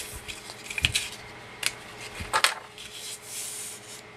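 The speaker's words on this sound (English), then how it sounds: "go ahead and miter the edge now" Paper for a mini album is mitered at the edge with a craft tool, giving a few short scraping and snipping bursts close up against a quiet background.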